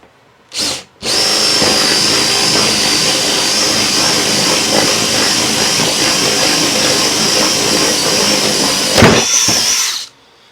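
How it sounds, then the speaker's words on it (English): A cordless power drill starts with a short burst, then runs loud and steady for about eight seconds as it bores a one-inch hole through wood before winding down. "I'm going to drill a 1-inch hole in it."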